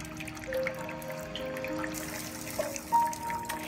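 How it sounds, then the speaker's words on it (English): Water is poured into soil-filled plastic bottles and trickles and drips through the soil, faint small splashes and drips over quiet background. "I'm going to pour some generous amount of water into these bottles, and we can see as the water seeps through."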